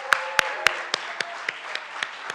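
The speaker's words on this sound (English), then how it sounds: "Let's have another round of applause" Slow, sparse claps at an awards ceremony, about ten distinct hand claps spaced evenly and fading slightly, close and fairly loud with a faint tone underneath.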